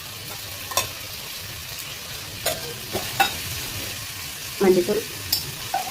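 Egg gravy masala with turmeric sizzles as it is sautéed and stirred in a pan, with a soft continuous fry broken by scattered sharp scrapes and clinks of the spoon against the pan.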